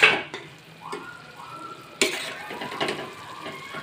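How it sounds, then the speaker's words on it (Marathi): A metal lid scrapes and clanks off a pot of cooking mung dal, with light clatter of the cookware against a faint simmering hiss, several small knocks spread over a few seconds. "बघा आता मी याच्यावरचं झाकून काढून बघते शिजले का"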